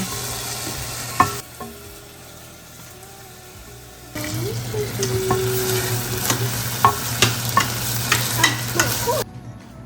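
Holy basil fried rice stir-fried in a pan with stir-fry sauce, a steady sizzle with scraping utensil strokes and clinks that grow busier and louder in the second half.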